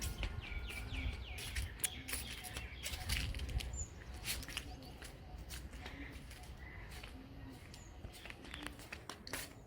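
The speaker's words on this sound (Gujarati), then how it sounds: "ઉપર કાબર ને બધું જો" Mynas call outdoors in repeated short chirps and whistles, coming through fairly faintly over steady background noise. Someone talks nearby.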